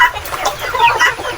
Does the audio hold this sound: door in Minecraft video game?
no